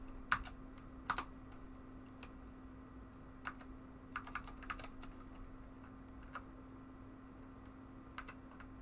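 Keys clack irregularly on a computer keyboard attached to an older Unix workstation, scattered close taps and short bursts over a steady low electrical hum, with no talking.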